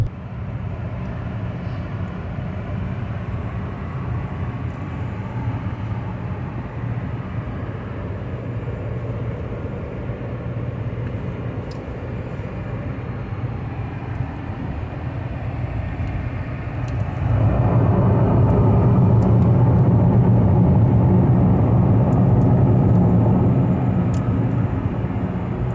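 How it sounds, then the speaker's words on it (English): Cabin road noise inside a Toyota hatchback cruising on the highway: a steady low roar over rough pavement that abruptly grows louder and deeper partway through as the surface changes, continuous without talk. "Maybe I'll drop a piece in here of driving on the highway between really rough surface and smooth."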